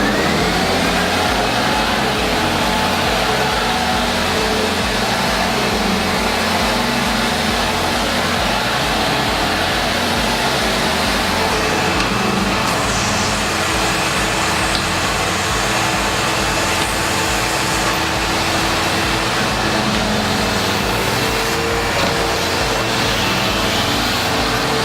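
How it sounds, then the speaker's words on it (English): A Steamaster vacuum cleaner runs without a break, a loud, steady motor whine and airflow roar that varies only slightly as the cleaner is worked back and forth. "When we're using a vacuum cleaner like this, we use it in a back and forth motion."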